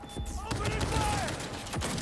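Gunfire from firefights in the video game Cyberpunk 2077, a dense fusillade of overlapping shots sounding loud and continuous throughout, with voices shouting over the shooting.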